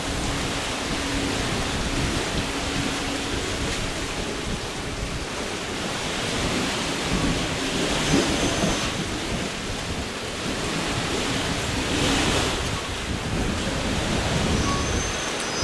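Steady surf washing onto a Maldives beach at the Four Seasons Resort at Landaa Giraavaru, a broad continuous wash of water with gentle swells and no voices.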